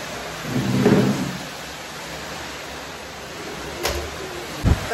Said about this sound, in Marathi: तर पाऊस बघू शकता तुम्ही मागे खूप जोराचा पाऊस आहे